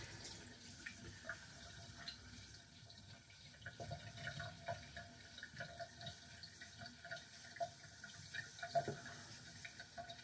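A bathroom tap runs quietly and steadily as water is used to re-wet the face during shaving, faint with small splashes and no talking.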